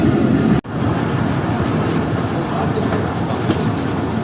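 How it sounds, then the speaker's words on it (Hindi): A passenger train on the Chaman route runs toward Bostan Junction station with a loud, steady rolling rumble, broken by one sharp momentary dropout early on before the continuous noise resumes. "तो अब ट्रेन हमारी पहुंच रही है बोस्तान रेलवे स्टेशन पर, बोस्तान जंक्शन रेलवे स्टेशन पर।"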